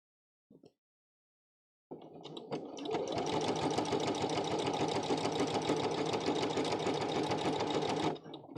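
Sewing machine running steadily for about six seconds while top stitching along a garment neckline, a continuous close mechanical whir after a short faint sound near the start.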